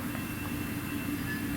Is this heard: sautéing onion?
no